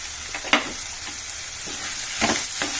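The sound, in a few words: crushed garlic frying with bitter gourd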